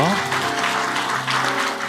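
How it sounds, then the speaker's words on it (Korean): Members of a church congregation at a Sunday service clap together in a brief, steady burst that fills the sanctuary, with a held tone sounding beneath the applause. "박수로 한번 격려해 주십시오."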